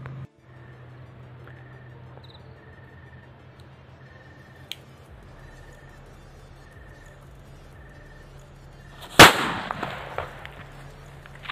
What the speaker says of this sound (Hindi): हम ट्राई करने वाले हैं इस वाले पटाखे को